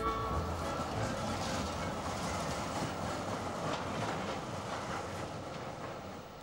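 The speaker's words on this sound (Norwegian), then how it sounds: "Trikken ruller igjen" A city tram rolls along its rails in Norway, giving a steady low rumble and faint clatter that holds at a near, even level and fades slightly toward the end, with no voices.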